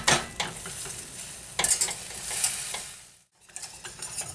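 Butter, brown sugar and powdered sugar melting in a saucepan, a bright hissing sizzle with scraping stirs that pauses briefly near the end, then resumes, close and fairly loud.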